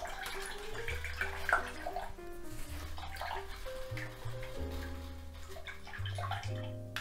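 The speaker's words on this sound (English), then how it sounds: "let's rinse off our brush" An acrylic paint brush swishes and clinks in a water cup as it is rinsed, with gurgling, splashing water beside a quiet musical backing.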